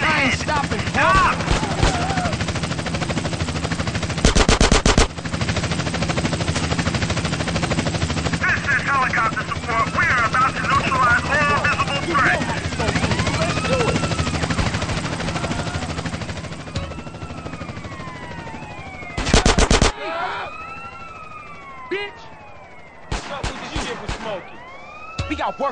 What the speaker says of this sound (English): Hold this thing steady, and I'll shoot him in the head.